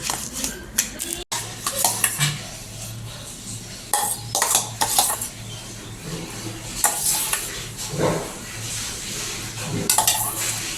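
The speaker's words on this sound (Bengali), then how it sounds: "চলো এবার আমি বাটিতে সার্ভ করি" Lemon kulfi is served into a bowl: irregular close clinks and scrapes of a utensil against dishes, with short bursts of clatter and brief pauses, no talk.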